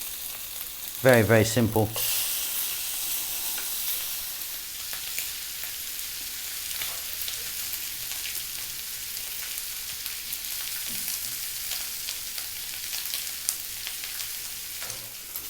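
Sirloin steak fat fries in a pan with a steady, close sizzle, a brief clatter near the start and a few short spoken remarks over it.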